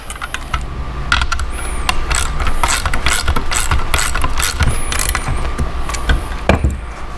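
Bolts being tightened on a Ford Bronco Slipstream top: rapid ratcheting clicks in quick bursts with metallic mechanical clatter, close and loud, running almost continuously.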